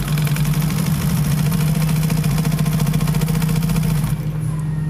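An electric sewing machine runs steadily with the foot pedal held down, a continuous motor hum with a rapid mechanical stitching rhythm, close and loud for about four seconds before easing off.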